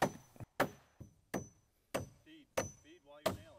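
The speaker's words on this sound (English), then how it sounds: "Fasten the double top plate at each stud location." Hammer blows driving nails through a double top plate into the studs of a shed wall, six sharp wooden knocks at a steady, roughly even pace, close and loud, with faint talking between strikes.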